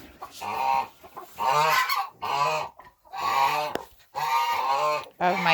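Loud, repeated honking quacks from several laying ducks on a farm in close bursts, each a few harsh calls with brief pauses between.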